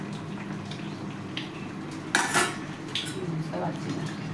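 Lid set over a cooking pan, one brief metallic clatter and clink partway through, over a low simmering background with a few lighter kitchen knocks.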